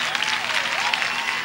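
A studio audience at a talk show claps enthusiastically as host Jenny Jones makes her entrance, a brief dense burst of steady applause.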